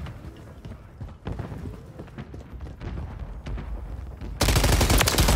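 Rapid gunfire in Modern Warfare III multiplayer, with a series of close, sharp shots amid footsteps and game noise, then a sudden loud, sustained burst near the end.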